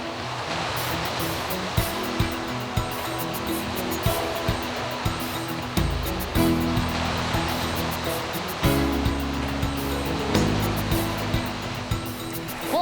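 Waves wash steadily against the Lake Michigan shore in a continuous broad roar, with low music layered underneath throughout and no speech.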